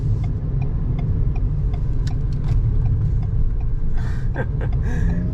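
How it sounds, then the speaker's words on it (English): A 2021 Ford Bronco Sport Badlands rounds a corner, with a loud, steady low engine and road rumble heard from inside the cabin and a few brief creaks and thumps near the end. "I'm going to test out the handling on this corner."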